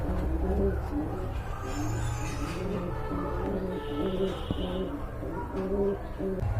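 A pair of khaki pigeons coos steadily at close range, soft repeated low calls layered over one another throughout, with some background murmur.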